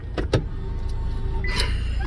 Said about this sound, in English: I'm closing it up